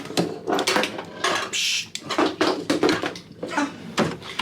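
A drawer in a cruise ship oceanview cabin slides open and shut, with a run of quick wooden knocks, scrapes and rattles close by, one brief hiss in the middle and no talk.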